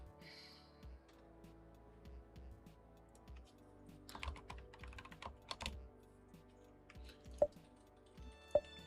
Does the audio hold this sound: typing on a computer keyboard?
yes